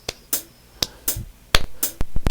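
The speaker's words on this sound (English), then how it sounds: "I'm actually going to clap those rhythms" Sharp hand claps tap out triplet rhythms, about a dozen crisp close strikes in uneven groupings, alone with no talking.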